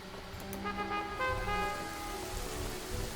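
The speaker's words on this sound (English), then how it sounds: "Alright, raining now." Rain falling in the strategy game Kingdoms and Castles, a steady wash of patter running through the whole stretch alongside tonal game music and ambience, no voices.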